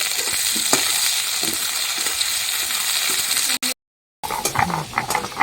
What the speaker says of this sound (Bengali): এবার একটুখানি নাড়িয়ে দেবো দাও আলুগুলো ছেড়ে দাও